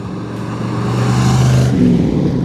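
A 1969 Chevrolet Corvette Stingray C3 with a big block engine and 4-speed runs close by with a loud, deep steady rumble that swells and then shifts pitch partway through, with no talking.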